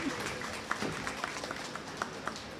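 A graduation audience cheers and claps in a school hall, a steady broadband wash of applause and shouting with a few sharper whoops rising out of it.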